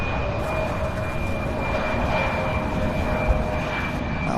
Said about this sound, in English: This is Delta Flight 3945 arriving from Minneapolis, Minnesota